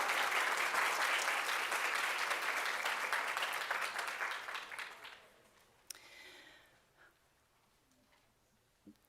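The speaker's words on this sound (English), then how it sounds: "students, please lead us in a round of applause to thank your loved ones" Medical students at a white coat ceremony give a round of applause, dense sustained clapping that fades out over several seconds, leaving a quiet hall with a few stray claps.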